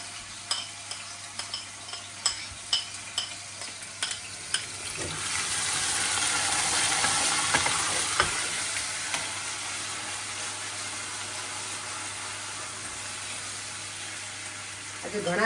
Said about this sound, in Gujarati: તેલ આવી જાય ને એટલે પછી એમાં આદુ અને આ બંને નાખી દેવાનું. એને થોડી વાર સતળાવા દેવાનું